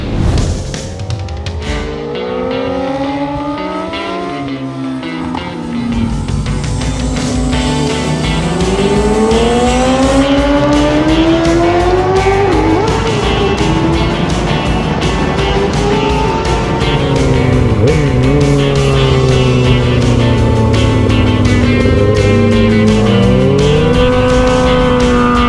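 Kawasaki ZX636 and 1000cc sport motorcycles racing at the Mandalika circuit, loud engines revving and sweeping up and down through gear changes, with continuous wind roar throughout and no talk.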